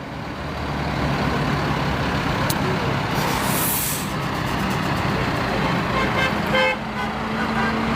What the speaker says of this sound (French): Vous entendez les gens qui les klaxonnent aussi.